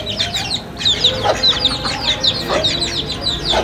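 Chickens in a rooster cage cluck and call steadily, with repeated sharp bursts close by and no talking.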